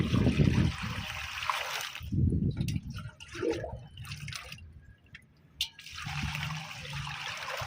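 Water poured onto cocopeat in a sack for a potting mix at a terrace garden: uneven bursts of trickling and dripping as the fibre soaks it up, with quieter gaps between pours.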